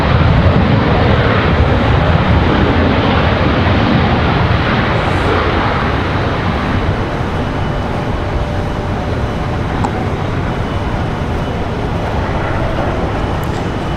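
A United airliner touches down at Washington Dulles, its broad jet roar steady and loud throughout, with no voices over it.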